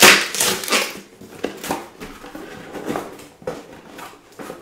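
A delivery package holding a Rasasi Hawas fragrance is opened up close. It crinkles, rustles and crunches loudly at first, then settles into softer scattered crackles and taps, with no talking.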